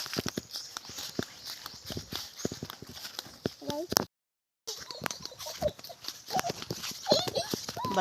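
A water buffalo (carabao) walking on a rural farm path, its hooves making irregular clopping steps at close range, with people talking over them and a brief dropout midway.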